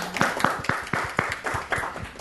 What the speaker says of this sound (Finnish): Et annetaan teille aplodit myös.